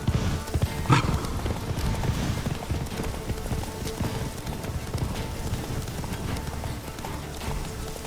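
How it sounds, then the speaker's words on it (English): Horse hooves clip-clop at a quick, steady trot in The Witcher 3 video game, a close, continuous rhythmic clatter over a faint ambient bed. "Giddy up. Whoa there, Roach."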